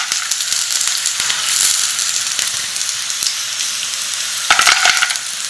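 Serrano chiles and pistachios fry loudly in a pan, a bright sustained sizzle with crackles and a few sharp stirring clicks, swelling briefly near the end.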